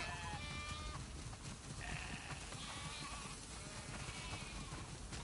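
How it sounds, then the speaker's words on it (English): Several sheep bleat repeatedly in a video game over a noisy background, overlapping calls rising and falling with no talking. "Wow, that's a lot of sheep."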